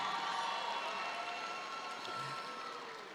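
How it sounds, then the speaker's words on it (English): Audience applause and cheering fill a large hall for the graduating Class of 2019 at a Southern University and A&M College fall commencement, a steady, dense, moderately distant roar of clapping that holds for the whole stretch and eases slightly toward the end. "Let's give them another round of applause."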